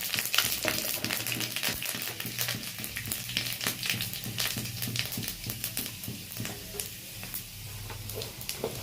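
Bay leaf and panch phoron spices sizzle steadily in hot oil, with a constant crackling hiss and frequent sharp pops from the seeds, close up and alone.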